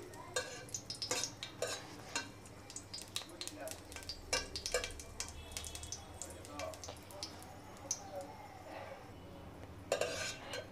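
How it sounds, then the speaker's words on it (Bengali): Dried red chillies frying crisp in oil over low heat, with a faint, steady sizzle broken by repeated clinks and scrapes of a spoon against the pan, fairly close and quiet. "আমি এটাকে একদম মচমচা করে ভেজে নিব।"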